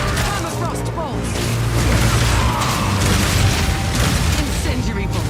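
Crossbow bolts fire in Path of Exile 2 combat, giving repeated mechanical booms and bursts over a dense, continuous wash of game effects, with voices talking throughout.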